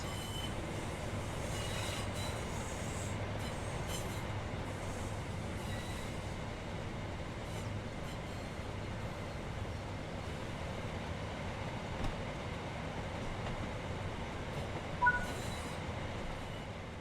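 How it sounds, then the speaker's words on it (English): In Train Sim World 6 on the Riviera Line, a train runs along the track with a steady low rolling rumble and faint wheel squeal, continuous and fairly quiet for the whole stretch with no talk. "Now that you've moved down the track, it's time to bring the train to a stop."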